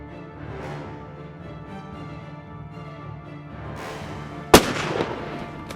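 A single sharp gunshot cracks out loud and close during a crocodile hunt, standing out against steady outdoor background noise with a brief ringing decay after it.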